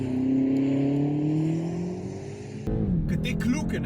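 A BMW M8 pulls hard out of a hairpin on a mountain road, its engine note climbing steadily in a loud rising drone, then dropping sharply with a gear change while someone talks over it.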